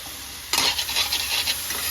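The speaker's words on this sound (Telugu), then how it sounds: "ఆయిల్ అయితే వేసుకుంటున్నా చాలు ఎక్కింది బీన్స్ అయితే దీనిలో వేస్తున్నాను" Green beans tipped into hot oil in a pan set off a sudden loud sizzle midway that keeps crackling and hissing, with light stirring scrapes on top and no voices.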